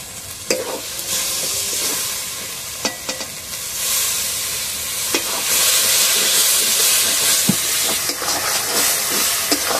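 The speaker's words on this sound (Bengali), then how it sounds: "ভালো মতন কষে নিয়েছি" Chicken curry masala with chopped tomato and salt sizzles steadily in a pan, with scattered sharp scrapes and knocks of a spoon stirring through the frying hiss.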